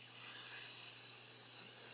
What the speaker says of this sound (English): spray a 9x13 baking dish with some nonstick cooking spray